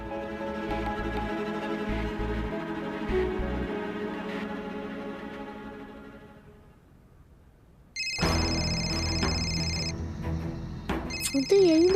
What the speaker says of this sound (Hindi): फोन तो यही बज रहा है।